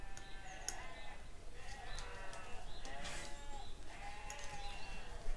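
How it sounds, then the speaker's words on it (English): Sheep gathered for shearing on a neighbouring farm bleat faintly in the distance, several overlapping calls rising and fading over a low, steady background hum. "Got the sheep in for shearing."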